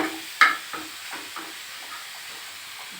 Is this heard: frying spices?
yes